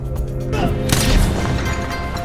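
Gunfire during a yakuza shootout fight scene in a film, a pistol in hand: loud, close booming shots and impacts under dramatic music, with a sharp burst near the middle.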